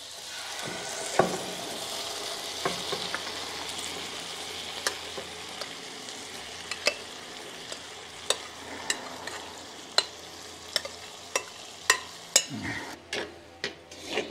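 Food sizzles and fries in a Dutch oven, a steady soft crackle broken by repeated scraping clicks of a utensil stirring against the pot, close and without voices.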